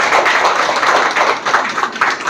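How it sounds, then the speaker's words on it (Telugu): Loud applause from an audience right after a clinic's celebration of a successful fertility story, dense clapping that keeps going steadily through the whole stretch with no voices over it. "గట్టిగా చప్పట్లు"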